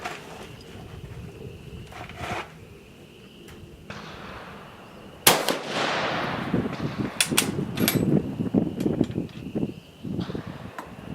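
A Mle 1866-74 French Gras rifle fires at a 50-yard outdoor range, one sharp loud report followed by a ringing decay, with wind and handling noises before and after.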